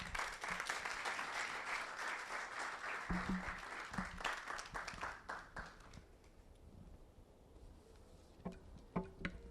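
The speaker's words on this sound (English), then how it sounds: "Ladies and gentlemen, please another round of applause for her." An audience applauds at the launch of the 2022 National Science and Maths Quiz, steady clapping for several seconds that fades out, leaving a few scattered claps and taps.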